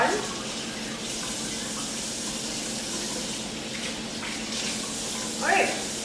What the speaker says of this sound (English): Wash a couple lemons